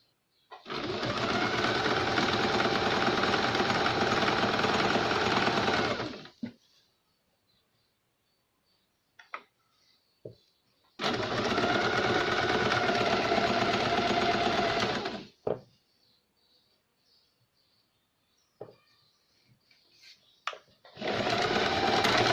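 A sewing machine stitches a straight hem along the folded lower edge of a princess-cut boat-neck blouse, running in two long steady bursts of about five seconds each with quiet handling between them and a third burst starting at the end.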